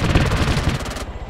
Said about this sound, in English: Someone else still shooting.